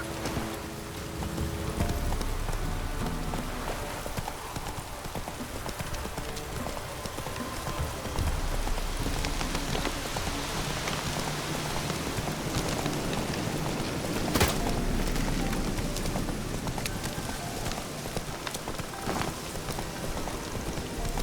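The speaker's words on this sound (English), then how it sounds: "Looks like rain." Steady rain falls across the world of the video game The Witcher 3: Wild Hunt, a continuous wash of hiss and patter with a soft low rumble underneath and occasional clip-clop of hooves, and no talking.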